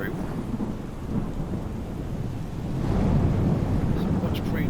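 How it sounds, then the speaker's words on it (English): A thunderstorm in Microsoft Flight Simulator over an airport, with heavy rain and low rumbling thunder that swells midway, the steady wash of rain continuous throughout. "So it's definitely raining where it should be raining."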